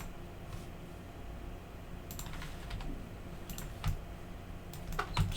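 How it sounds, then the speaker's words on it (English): Keys on a computer keyboard clack while a user models in 3ds Max, scattered taps and short bursts of keystrokes over a faint fan hum, fairly close and with no talking. "So I'm just gonna hit T on the keyboard, hit 1, select."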